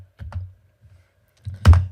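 A few sparse computer keyboard presses, including the spacebar, sound close and dry as isolated clicks and thunks with pauses between them, the last press heavier.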